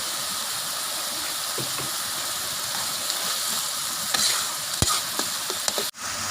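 Eel stir-frying in a hot pan with fingerroot and peppercorns, a steady loud sizzle throughout with scattered stirring clicks and scrapes, ending in a brief dip before the sizzle resumes.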